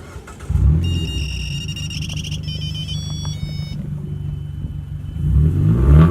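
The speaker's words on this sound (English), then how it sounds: "My exhaust has no muffler and no air resonator" A car engine rumbles loudly through a straight-pipe exhaust with the muffler and air resonator removed, a deep, unmuffled tone, revving steadily and swelling near the end. A high electronic chiming tone sounds briefly early on.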